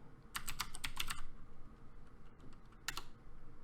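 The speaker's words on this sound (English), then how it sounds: "then we're gonna type syntax and then enable." Quick bursts of keystrokes on a computer keyboard while entering Vim commands, a short rapid flurry, a pause, then a brief second flurry, close and fairly quiet.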